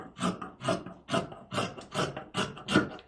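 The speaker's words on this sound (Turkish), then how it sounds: "Şöyle kestim etek ucunu." Scissors cutting along the hem of a dress fabric, six rhythmic rasping strokes in a steady cadence, close and fairly loud, with no voices.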